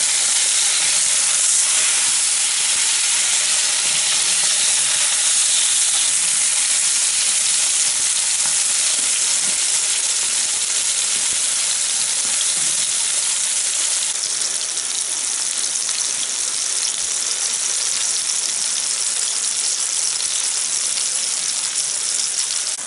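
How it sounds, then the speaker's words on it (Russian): Turkey liver chops, dipped in egg and flour, fry in a pan after being flipped to the other side, giving a loud, continuous sizzle and crackle that runs steadily throughout with no talking. "и минуточки две еще пожарятся они на другой стороне"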